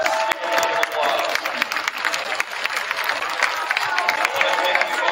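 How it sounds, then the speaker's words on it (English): Audience in a school gym applauding youth club wrestlers, a dense burst of clapping from a crowd that carries on for several seconds with no letup. "Give a round of applause."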